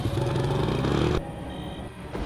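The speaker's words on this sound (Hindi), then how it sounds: "तभी उसे एक आदमी बाइक पर जाता दिखाई दिया।" An animated motorcycle passes by, a short, loud engine growl with a droning buzz that cuts off abruptly into a fainter clattering rumble.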